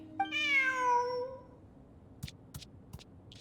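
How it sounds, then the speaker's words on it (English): A cat meows once in the Genshin Impact video game, a clear, rising then falling cry lasting about a second, followed by a few faint clicks and taps in a quiet background. "Who's a good kitty?"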